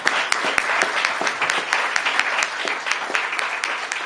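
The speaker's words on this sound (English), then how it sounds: "Let's give them a round of applause for their leadership" Audience applause at a mayoral clean energy bill signing ceremony, a dense steady burst of many hands clapping with sharp individual claps standing out, sustained at even loudness throughout.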